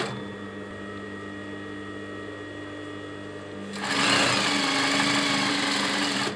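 A sewing machine stitches loops for the back of a wedding dress corset, running in a steady, close whirring hum that swells noticeably louder and busier partway through.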